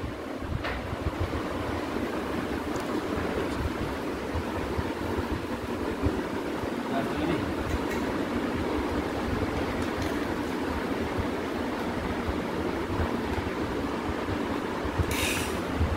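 An air conditioner compressor, just wired with its capacitor, runs with a steady, continuous rumbling hum that stays even and unbroken throughout, with no talk.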